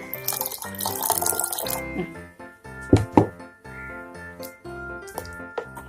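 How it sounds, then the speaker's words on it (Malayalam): Water poured into a 3-litre bottle for homemade banana wine: gurgling, splashing liquid with a few hollow knocks against the bottle, close and fairly loud, while music plays underneath. "ഇതിലേക്ക് ഏകദേശം 1/4 ഭാഗം വരുന്ന രീതിയിൽ വെള്ളം ഒഴിച്ചു കൊടുക്കാം."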